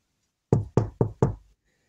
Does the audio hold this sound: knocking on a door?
yes